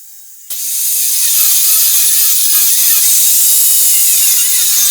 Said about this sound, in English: After marking out the shape, I started cutting it with an angle grinder.